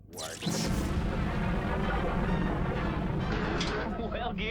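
An explosion in a Transformers G1 cartoon: a sudden loud boom that settles into a sustained heavy rumbling roar for several seconds, fading toward the end with some faint higher effects.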